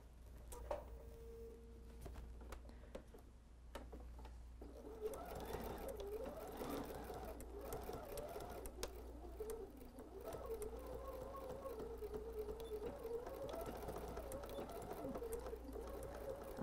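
Sewing machine stitching across a quilted tote bag, a faint, steady mechanical whir and rhythmic patter that starts after a few seconds of quiet clicks and continues to the end.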